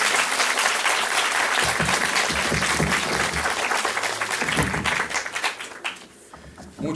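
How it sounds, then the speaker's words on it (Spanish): Audience applause for a first round of specialists at a panel discussion on adolescence: loud, dense, sustained clapping from a crowd that thins and fades near the end. "Demos un aplauso a esta primera ronda de especialistas."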